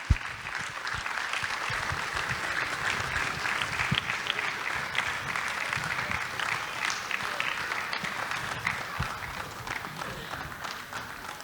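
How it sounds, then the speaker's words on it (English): At a preschool annual day, an audience claps steadily during the lamp lighting, a dense and sustained round of applause from a large crowd that stays loud and even throughout. "please clap along as we light the lamp."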